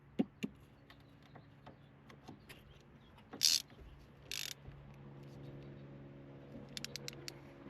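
Ratchet clicking while tightening the bolt on a Hooker Blackheart steering shaft in a 94-04 GM S10, with a few faint sharp clicks, a couple of louder clunks midway, and a low hum underneath.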